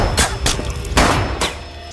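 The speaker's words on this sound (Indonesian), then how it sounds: "Beben menembak beberapa kali dan peluru nyasar itu mengenai kepala Tuti." Pistol fired several times during a struggle over the gun, four sharp, loud reports in quick uneven succession.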